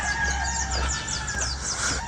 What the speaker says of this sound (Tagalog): Daming manok doon. Mga pang sabong.